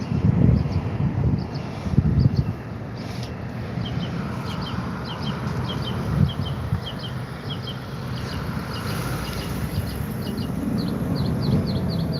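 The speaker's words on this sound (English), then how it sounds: "These birds sound so beautiful." Small birds chirp and twitter repeatedly in the distance over steady outdoor wind and rumbling background noise, no one speaking.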